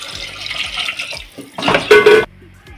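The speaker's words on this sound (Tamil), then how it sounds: "இப்போ கொஞ்சம் தண்ணி சேர்த்துக்கலாம்" Water splashes and runs into a cooking pot of sautéed sambar spices, swelling into a louder steady pour near the end before cutting off abruptly.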